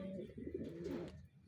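Racing pigeon cooing close by in a loft, a low continuous warbling coo through the whole moment with faint background noise.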